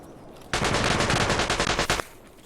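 A sustained burst of automatic weapon fire in Escape from Tarkov, loud and close, about a second and a half of rapid, evenly spaced shots ending abruptly.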